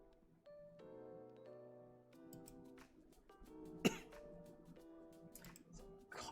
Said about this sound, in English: Cough up a lung here.